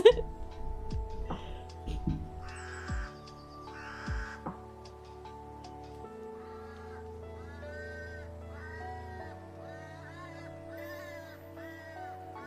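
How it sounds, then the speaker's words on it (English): Crows cawing in a recording of British birds, with repeated harsh calls in short bursts over a steady musical background, moderately loud. "in this video of the crows calling"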